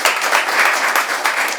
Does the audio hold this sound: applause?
yes